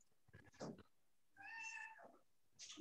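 A house cat meows in a home kitchen while a meal is being prepared, a clear drawn-out meow near the middle with shorter vocal sounds before and after, fairly quiet and close.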